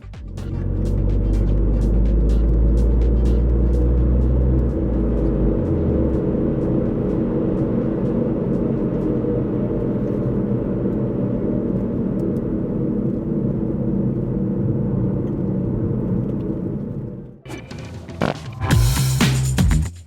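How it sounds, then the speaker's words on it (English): Steady loud road and drivetrain drone from inside a Mk2 Seat Leon on the move, with a worn, noisy rear wheel bearing humming in the mix, easing near the end before a brief burst of other noise. "there's definitely wheel bearing noise in amongst that as well"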